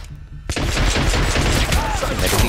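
Gunfire in the video game Hitman Absolution erupts after a brief quiet moment into dense, loud, continuous rapid shots and booming reports that fill the rest of the moment.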